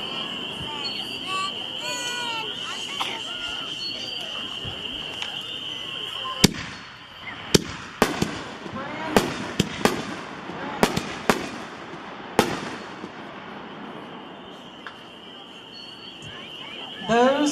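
Raccoon-brand Nishiki class aerial fireworks burst in a rapid string of sharp cracks and booms, about a dozen loud reports over crackling, with a voice talking underneath at the start.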